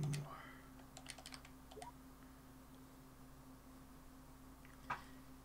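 Quiet computer keyboard typing, a few scattered light key clicks over a steady low hum, with one sharper tap near the end.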